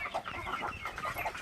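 Chickens cluck softly and steadily near a nest holding eggs and small chicks, the calls overlapping in a close, continuous farmyard murmur.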